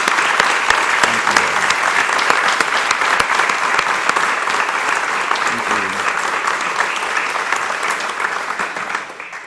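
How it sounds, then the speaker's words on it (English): A large audience at a university State of the University address gives the standing Singletary Scholars a loud, sustained round of applause, dense continuous clapping that fades slightly at the end. "Let's give you a round of applause."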